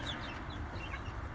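Chickens clucking in an outdoor run beside a coop, a steady, continuous murmur of soft clucks with no clear breaks and a low rumble of background noise underneath.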